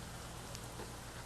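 Rain falling outdoors, a soft, even hiss of drops that holds steady and faint for a short moment, with no voices.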